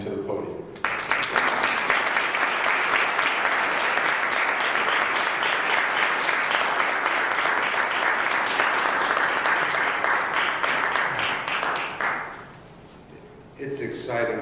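Sustained audience applause greeting a speaker as he comes to the podium at a social justice presentation, loud and steady for about eleven seconds before fading out.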